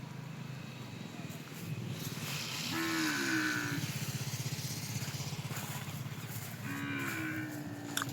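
Young calves at a livestock sale in Duvvur town, Kadapa district, let out two drawn-out moos, moderately near, over a steady engine rumble and faint background voices.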